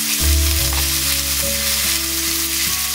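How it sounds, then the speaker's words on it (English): Lamb stew meat searing in a hot pan gives a loud, steady frying sizzle that starts abruptly and holds for a few seconds, close and continuous with no talking. "let them sear a bit so they have a nice brown color on them"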